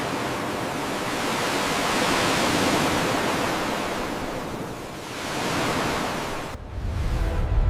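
Continuous roaring surf of ocean waves, swelling and receding in broad surges, loud and close with no voices.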